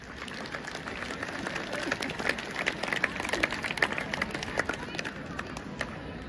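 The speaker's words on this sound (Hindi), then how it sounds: "ताली बजा लीजिए।" An audience at a school Republic Day celebration claps in a dense, continuous patter, fairly distant and soft, with a low murmur of voices mixed in.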